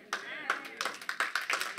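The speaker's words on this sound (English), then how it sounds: "I'm not really used to applause, so yeah, thank you" An audience at a church sermon claps in a brief, quick burst of applause at moderate distance, with a voice present alongside it.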